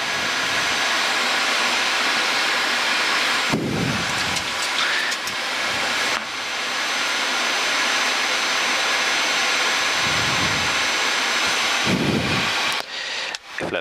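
A jet aircraft takes off from the Venice Marco Polo runway, its engines giving a loud, steady, broadband roar throughout, heard from nearby with a few thumps and clicks and no speech.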